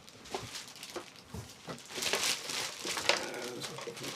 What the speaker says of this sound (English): Nice plastic bag.